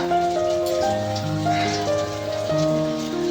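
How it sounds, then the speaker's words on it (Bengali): Bitter gourd fries in a pan with a steady, rain-like crackling hiss, partly masked by sustained tonal background sounds. "এখন ও একটু আমাকে সাহায্য করছে উচ্ছে ভাজাতে"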